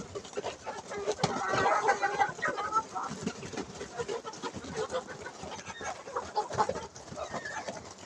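Backyard Faomi chickens, part of a flock of about seventy, cluck steadily at feeding time in winter, a dense layered chorus of nearby hens with sharper calls standing out over the flock.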